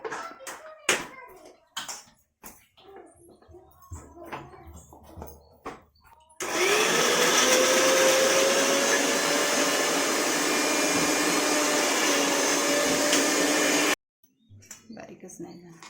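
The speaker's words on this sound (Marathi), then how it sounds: "हा मसाला मिक्सरला वाटून घ्यायचा" A kitchen mixer grinder whirs loudly and steadily for about eight seconds, grinding a masala of onion, garlic, coconut and cumin, with voices and household clatter before and after.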